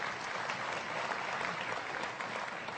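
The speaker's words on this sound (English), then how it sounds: "I knew if you ever clapped, it would be at the wrong moment." An audience at a Freedom From Religion Foundation event in 2007 breaks into steady applause, a dense, even wash of clapping from a crowd, sustained and moderately loud throughout with no one speaking over it.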